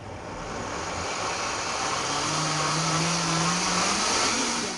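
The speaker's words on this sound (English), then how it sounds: "so now I'm going to put this into the mixer" A mixer blends beetroot soup with a loud, steady motor whir that rises slightly in pitch and stays close and constant, with no speech.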